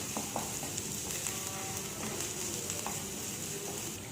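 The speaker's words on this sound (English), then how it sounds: "You can see it's sauteed nicely, our ginger, garlic and onion." Ginger, garlic and onion sauté in a pan with a soft, even sizzle and occasional light stirring taps, fairly quiet and steady, with no one speaking.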